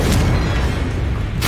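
Confringo explosion spell in a Harry Potter video game, a loud, dense booming blast filling the whole moment with heavy low rumble, followed by a brief sharp burst at the end.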